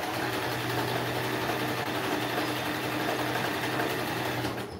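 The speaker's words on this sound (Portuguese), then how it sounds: "você pode passar assim na costura reta, tá bom? Ó, costurando direitinho" A sewing machine runs steadily, stitching a straight seam along the hem of a handmade poncho, a continuous close motor whir with no pauses before it eases off at the end.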